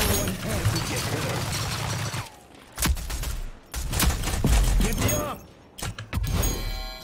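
Rapid gunshot bursts in the team shooter Rogue Company, loud clustered volleys broken by short gaps, with weapon handling noise and someone talking over the action.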